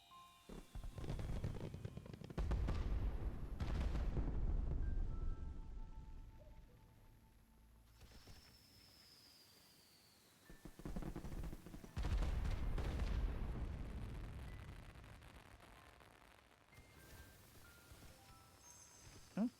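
Fireworks bursting nearby in repeated loud volleys, booming and crackling, with a quieter gap in the middle before another heavy barrage.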